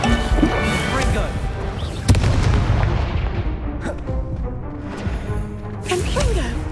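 Fiery Confringo curse blasts during a Hogwarts Legacy battle, booming impacts and crackling hits under steady combat noise, with a voice shouting spell incantations over the fighting.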